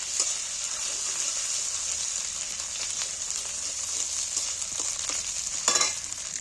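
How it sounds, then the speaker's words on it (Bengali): Ginger garlic paste fries in oil with a steady sizzling hiss, occasional stirring scrapes and one louder crackle near the end, close up and without talk. "এবার একটু আদা রসুন বাটাটা দিয়ে দিচ্ছি তেলের মধ্যে"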